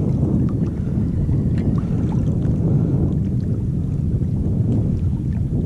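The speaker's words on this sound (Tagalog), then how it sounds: "Medyo malakas yung hangin" Strong wind roars in a steady, loud low rumble that buffets the microphone throughout, with faint splashing of chest-deep water underneath.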